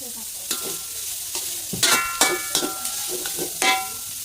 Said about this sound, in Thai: หมูลงไปคั่ว นี่คั่วให้สุกก่อนนะครับ ใส่น้ำมันลงไปหน่อย